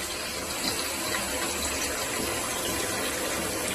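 Cold water gushes from a kitchen tap into a pot to cool it, a steady loud splashing rush that fills the whole moment without speech.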